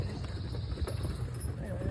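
Two horses' hooves clip-clopping along a rocky trail on a guided ride, soft, uneven steps heard beneath low background rumble and outdoor noise.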